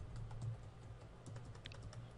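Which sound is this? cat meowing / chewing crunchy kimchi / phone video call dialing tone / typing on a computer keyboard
typing on a computer keyboard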